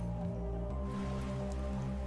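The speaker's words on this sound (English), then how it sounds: "I'm gonna have the rain up tonight because I need it." Rain ambience played in the background of a late-night livestream, a soft even patter of drops over a low steady hum, continuous and quiet with no talk.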